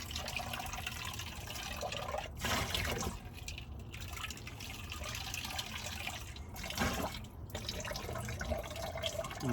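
Tap water runs steadily at a sink while dishes are rinsed inside a truck living space, a continuous close splashing trickle with a couple of brief louder gushes, no talking.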